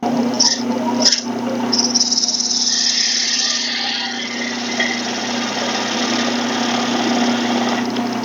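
Wood lathe motor hums steadily while 400-grit sandpaper is pressed against spinning turned wood, giving a constant close drone with a soft sanding hiss on top and no talk.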